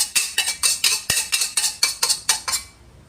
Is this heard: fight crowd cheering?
no